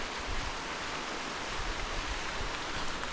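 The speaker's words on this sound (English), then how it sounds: "Oh, look at my waterfall going." Small backyard waterfall running, a steady broadband rush of falling water that stays even and close for the whole stretch, with no voices over it.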